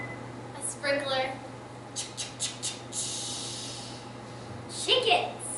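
A voice imitates a lawn sprinkler with a run of short hissing, spitting bursts in a ticking rhythm, then a longer spray-like hiss.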